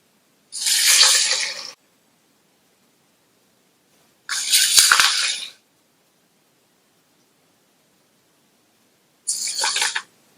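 Vada dough balls slipping one by one into hot frying oil, each raising a loud bright sizzling burst that lasts about a second before dying away, three separate splashes with quiet gaps between.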